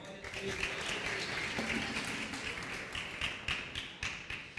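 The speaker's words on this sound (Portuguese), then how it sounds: "Dá uma salva de palmas para o Samuel." A church congregation at an Easter service claps for Samuel, a soft, dense patter of many hands heard from a distance, fairly quiet and continuous.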